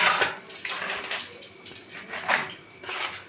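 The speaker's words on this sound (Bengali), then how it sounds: "জলটা আমি ফেলে দেবো।" Soaking water from a cooking bowl being poured away into a sink, a close splashing gush with a few surging pulses over about three seconds, no talking.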